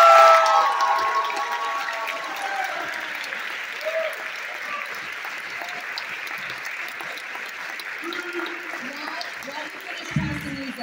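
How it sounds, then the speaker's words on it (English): Crowd applause for graduating seniors at a school gathering, a long sustained wash of clapping with some cheering, slowly settling, with faint voices underneath. "Would you give our seniors a round of applause?"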